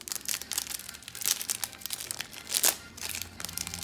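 An MLB Showdown 2000 booster pack's foil wrapper is torn and crinkled open up close, a few seconds of bursts of sharp rustling and tearing with no talk.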